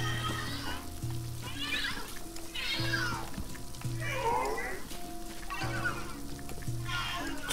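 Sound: giant cat meowing in Luigi's Mansion 3 video game

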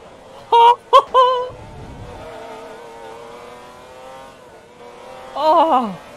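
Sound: sports car engine revving, from a video game

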